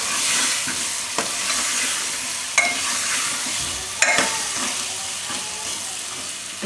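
Potatoes stirred in a sizzling pan with spiced oil for Gujarati dum aloo, a soft continuous fry hiss broken by a few sharp spoon scrapes and knocks.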